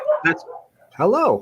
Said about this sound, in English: That's a dog saying, "Feed me, I'm hungry."